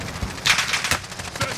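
Gunfire in Call of Duty Warzone: a quick run of sharp, punchy shots in uneven bursts, loud and fairly close, with no speech over it.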